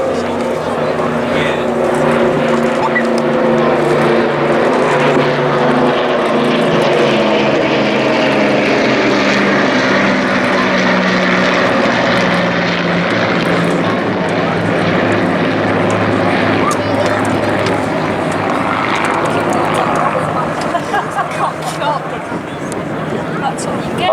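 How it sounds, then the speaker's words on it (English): A C-47 Dakota, the military DC-3, flies past at an airshow with a loud, continuous propeller-engine drone that swells and slowly shifts as it passes overhead, while a voice talks over it. "The C-47, it's the military version of the DC-3 airliner, which first flew in 1935"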